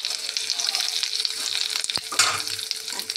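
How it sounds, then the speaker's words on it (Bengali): Cumin seeds sizzling in hot oil in a pan, an intense close crackling hiss throughout with a sharp utensil knock midway and a brief surge of spitting afterward, no talking. "এবার এই তেলের মধ্যে এই যে জিরে দিয়ে দিলাম"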